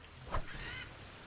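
A goose in a survival video game lets out one short, loud honk, then a fainter, longer call follows over steady background noise.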